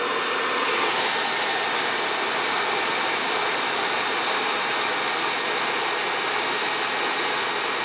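A three-phase synchronous AC generator driven under load, giving a steady, loud, continuous whine and rush with no change over the whole stretch and no voices.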